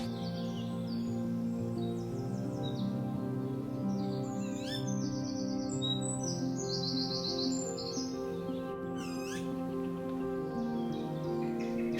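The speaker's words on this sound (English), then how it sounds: "You can hear the adult female calling nearby." An adult female tawny owl calls nearby, giving sharp, high repeated notes that stand out in a few bursts over a steady low background drone.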